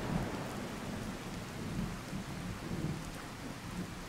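A thunderstorm from the True Storms mod in Fallout 4 fills the scene with steady heavy rain and low rolling thunder, loud and continuous throughout.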